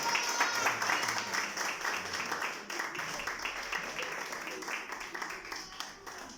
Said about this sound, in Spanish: un aplauso para el maestro, un excelente trabajo